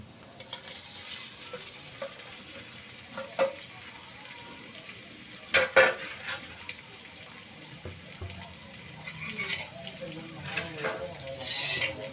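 Egg masala gravy sizzles softly in a pan while a spoon stirs it with occasional scrapes and knocks, and a voice talks over the cooking throughout.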